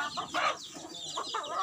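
Chickens clucking in short, close bursts while being fed corn, a few quick calls overlapping in a brief moment.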